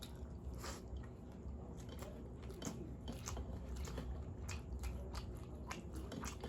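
Close, wet chewing and soft crunching from someone eating rice with katla fish curry in gravy, a steady run of bites and mouth sounds with no talking.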